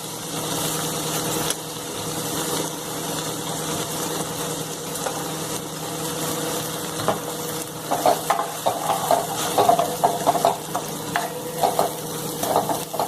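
Crushed fresh green chickpeas are sautéed in a pan, with a constant low frying hiss and irregular spatula scrapes and clicks that grow busier toward the end.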